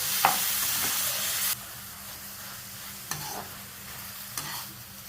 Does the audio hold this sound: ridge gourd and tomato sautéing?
yes